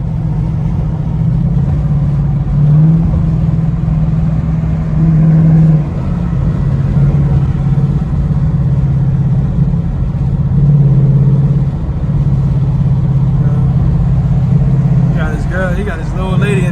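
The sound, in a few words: 2019 Ford Mustang engine revving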